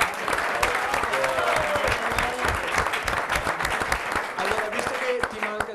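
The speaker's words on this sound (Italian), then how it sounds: "Quindi l'applauso è doveroso per..." An audience applauds steadily and loudly at a Calcio Padova event, the dense clapping continuing throughout with faint voices beneath.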